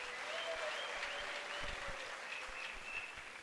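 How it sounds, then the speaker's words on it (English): Sustained applause from a graduation ceremony audience, steady dense clapping filling the hall throughout, loud and continuous with no voices over it. "Mr. Make Lilina Rialelebua, can we also give him a big round of applause?"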